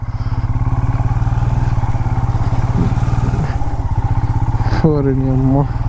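A Royal Enfield Himalayan motorcycle carrying pillion riders works off-road on a forest trail with water crossings, its engine thumping in a steady, rapid close-up beat, with someone talking over it near the end.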